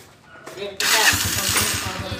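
A 2017 Honda TMX125 Alpha motorcycle, just repaired, cranks and fires up, settling straight into a loud, close, steady putting idle, with a voice heard briefly before the engine catches.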